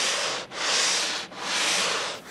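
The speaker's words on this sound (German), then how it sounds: "Jede Stelle der Sitzfläche muss Thorsten Kirsch extra fein schleifen." Linden wood on a sauna seat is fine-sanded by hand in close, loud, even back-and-forth strokes, three long rasping passes with brief breaks between them and no talking.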